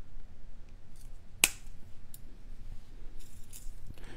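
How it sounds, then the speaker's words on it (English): Jewelry wire for earrings cut with a single crisp snip of a cutter, sharp and close, with faint handling noise before and after in a quiet room. "And we'll snip."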